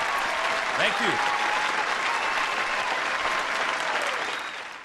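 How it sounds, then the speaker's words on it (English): Applause from a studio or live quiz show audience, sustained dense clapping that holds steady for several seconds and tapers at the end, with a brief voice speaking over it. "Let's do some applause for him."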